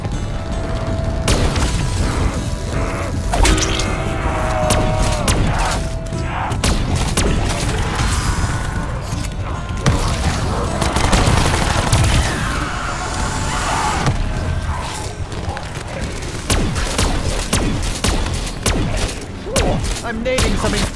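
Gunfire rings out while zombies are shot on a zombies map in a video game, bursts of rapid shots and thuds in a dense, busy mix, with speech heard intermittently.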